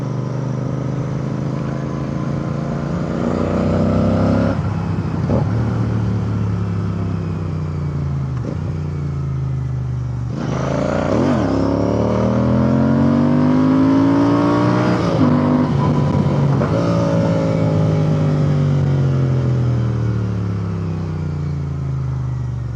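A Royal Enfield Interceptor 650 twin motorcycle with its exhaust baffles removed rumbles loudly and steadily while riding, its engine note rising and falling through repeated gear changes and accelerations, close to the microphone.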